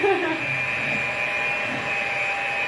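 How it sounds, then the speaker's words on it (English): A hand blender whirs steadily as it mixes chocolate salted caramel mousse made with tofu, a close, continuous motor whine with a slight rough edge that holds level for a few seconds. "get yourself a hand blender. You can use like an actual blender, but a hand mixer works best"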